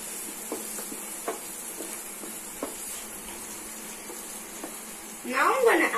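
A spoon stirs masala pasta curry with egg and veggies in a pan, giving a series of soft scraping taps over a steady low sizzle, then louder clattering mixing near the end.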